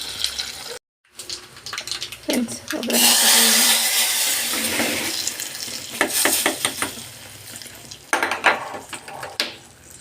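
Tempering spices hit hot oil for ridge gourd sambar with a sudden loud sizzle that slowly fades, among clinks and stirring knocks, with some speech nearby.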